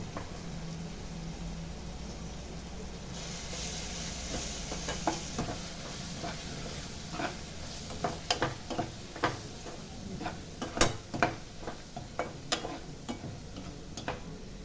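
A spoon stirring egg and capsicum gravy in a pan after salt is added, faint sizzling under a run of sharp, irregular clicks and taps against the metal.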